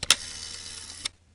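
Rotary dial of a GTE telephone being operated, giving a couple of sharp mechanical clicks at the start and end of a short whirring wind-back, heard close and alone.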